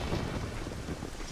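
A steady downpour hisses in Zelda: Ocarina of Time while low thunder rumbles underneath, the storm sound holding fairly loud and even for the brief moment with no voices.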